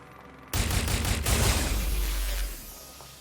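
A sudden loud volley of gunfire in the video game Watch Dogs: Legion, several quick shots fired close together, then a rumbling tail fading over about two seconds, with no talk.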